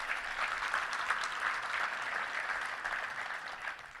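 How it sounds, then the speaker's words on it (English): A round of applause from the crowd at a touchdown club luncheon in Little Rock, a steady, fairly faint wash of clapping lasting a few seconds. "Let's give them a round of applause."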